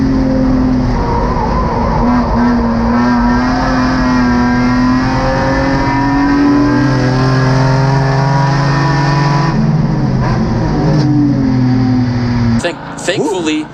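Race cars racing at Gingerman Raceway in a GRIDLIFE Midwest GLGT race, a loud, sustained engine drone with shifting revs and a car passing close, under a commentator talking excitedly, ending with an abrupt change in the engine sound.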